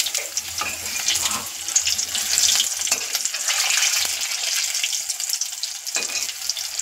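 Mutton kheema vadas frying in a pan of oil over a low flame, a steady bright hissing sizzle with a few soft clinks and stirring noises, close and continuous, no talking.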